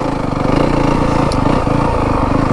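A 2025 Yamaha WR 250F dirt bike engine drones steadily and loudly while riding, a close, continuous mid-pitched motor note with slight throttle fluctuations and no talk.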